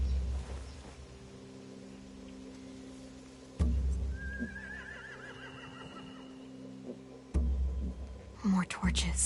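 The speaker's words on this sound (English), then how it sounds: "They have horses." A horse whinnies in The Walking Dead Telltale Season 4 Episode 3: one fairly faint, wavering neigh in the middle, over a low ambient hum, with a soft thump and a brief rustle toward the end.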